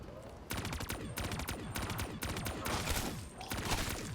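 Rapid bursts of automatic gunfire in Black Ops 3 Zombies on the Shangri-La map, loud sustained volleys with short gaps, rattling near and continuous.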